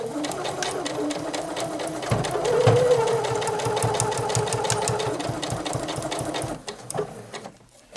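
A Janome 8077 sewing machine stitches steadily in a close, rapid rhythmic whir, pausing briefly near the end before starting up again.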